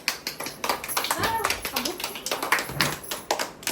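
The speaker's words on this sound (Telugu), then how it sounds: "క్లాప్స్ కట్టండి" Group of people clapping hands at a cradle ceremony in a home, a steady run of sharp claps with children's and adults' voices talking over them.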